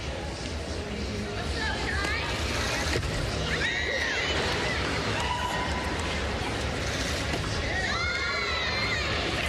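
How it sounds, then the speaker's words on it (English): Teammates cheer from the background at the 2022 Artistic Gymnastics World Championships women's all-around, a steady arena crowd roar with shouts, under continuous commentary. "You can hear her teammates cheering for her in the background."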